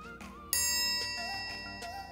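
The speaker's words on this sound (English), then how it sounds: "some people think the triangle isn't that important of an instrument" A triangle rings with a bright sustained metallic ding that strikes once and lingers, layered over soft background music, a few lighter chimes following, with no voices.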